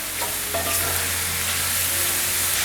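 Brown and white beech mushrooms with small cucumber are stir-fried in a wok, giving a loud, continuous sizzle with scraping stir noises, close up and without talk.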